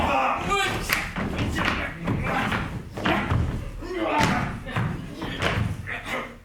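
Repeated heavy thuds of a door being pounded on, as police demand entry, in an old French vaudeville comedy scene, loud and close under steady shouting voices.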